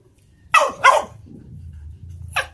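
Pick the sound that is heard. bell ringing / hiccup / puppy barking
puppy barking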